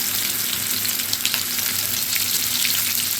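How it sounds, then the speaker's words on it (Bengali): Potato pieces fry in hot oil, making a loud, steady, close sizzle with dense crackling spatter and a low hum underneath. "আলুটা আমি এখানে তেলে ছেড়ে দিয়েছি"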